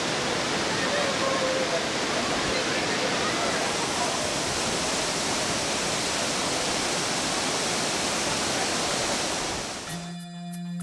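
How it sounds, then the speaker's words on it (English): Steady, full roar of Namaste Waterfalls in eastern Nepal, a dense rushing wash of water that stays even throughout, then a brief tonal sound cuts in at the end. "after 30 minutes walk upward, we reach Namaste Waterfalls"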